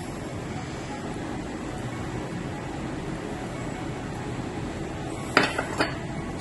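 Hash brown ingredients and cheese being mixed in a bowl, a steady soft background with a few quick clinks of a utensil against the bowl near the end; no talking.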